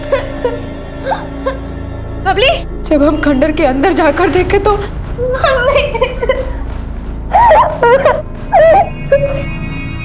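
A girl cries and whimpers inside a ruined building, her wavering wails rising and falling in close, uneven bursts while a voice speaks and calls out over her.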